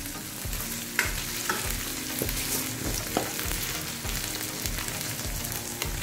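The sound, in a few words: okra (bhindi) frying, stirred with a spoon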